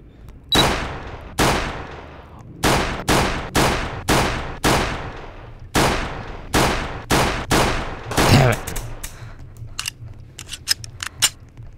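A series of sharp, loud single gunshots in a shooting game, spaced about half a second to a second apart with decaying tails, followed by quieter scattered shots.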